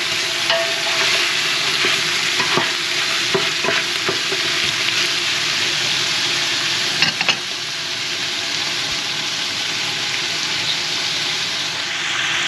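Couscous sauce sizzles steadily in a pot while being stirred, a continuous close frying hiss with occasional scraping clicks of the spoon.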